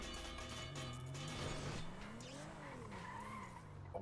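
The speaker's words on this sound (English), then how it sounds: "Rafi be crashing a lot" Tires skid and squeal as a car slides in a GTA roleplay game, a long continuous screech with shifting engine pitch, loud and steady throughout with no talking over it.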